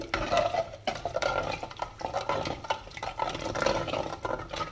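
Curd curry with a pinch of asafoetida stirred in a pot, a close, continuous churning of ladle scrapes and soft knocks against the metal with an uneven, busy rhythm.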